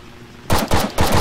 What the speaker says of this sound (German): Da schießt er auf mich.